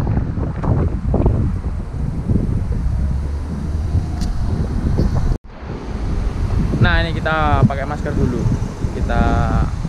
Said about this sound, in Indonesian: Mungkin suaranya gak berisik karena anginnya juga lumayan gede.